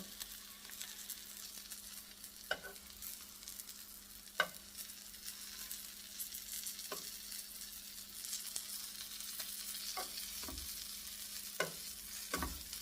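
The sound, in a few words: French toast frying in pan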